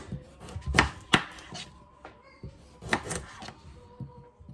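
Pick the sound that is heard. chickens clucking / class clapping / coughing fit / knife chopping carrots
knife chopping carrots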